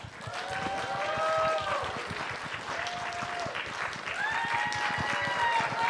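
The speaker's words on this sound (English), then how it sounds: "let's give another round of applause for Tony Mueli and Diego Baldonado" Audience applause for performers at a College of San Mateo electronic music concert: a soft, continuous patter of clapping across the hall, with voices and whoops rising over it.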